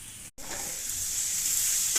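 Papaya pieces dropped into hot oil with spices, salt and turmeric, a close, steady sizzling frying sound after a brief pause, with stirring.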